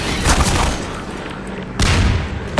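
Loud, repeated gunfire bursts from a first-person shooter, Half-Life 2: Lost Coast, with a dense volley at the start and fresh bursts toward the end, close and punchy.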